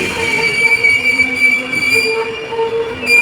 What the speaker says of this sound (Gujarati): ચાલો હવે ટ્રેન ધીમે ધીમે બ્રેક મારી રહી છે